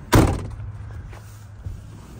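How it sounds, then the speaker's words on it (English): A 2002 Ford F-250 pickup door slams shut with one loud, close thud, then a quiet cabin and a softer knock near the end. "Let me shut the door."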